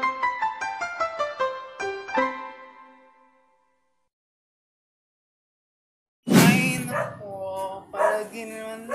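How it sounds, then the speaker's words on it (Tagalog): A dog gives a quick run of sharp, rhythmic yapping barks close by that trails off. After a stretch of silence, a person's voice begins. "tumatahol-tahol na aso niya"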